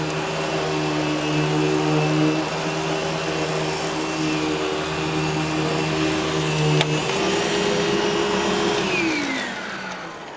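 Eureka Boss Smartvac 4870 upright vacuum cleaner running steadily over carpet, a loud continuous motor whine with strong hum tones that shift pitch near the end as the machine is moved; no talking.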